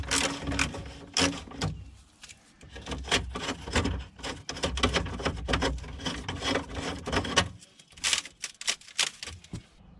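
Ratchet removes a 10mm heat shield bolt under a BMW E87 130i, giving rapid, close-up clicking bursts with short pauses between runs of turning.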